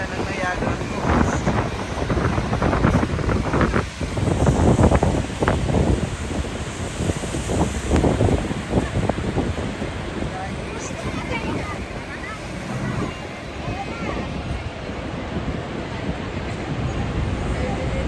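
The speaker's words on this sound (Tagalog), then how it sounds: "Ganda ng Niagara Falls." Niagara Falls roars as a steady, broad wash of rushing water, with wind buffeting the microphone throughout and some indistinct voices mixed in.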